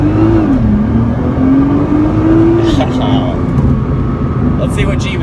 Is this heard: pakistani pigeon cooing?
no